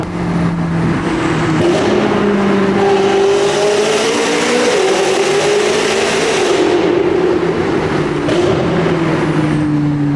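A Toyota Supra accelerates hard and loudly, its engine drone rising and shifting in pitch through gear changes over about ten seconds, steady and close without speech.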